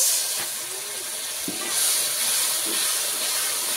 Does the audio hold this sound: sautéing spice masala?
yes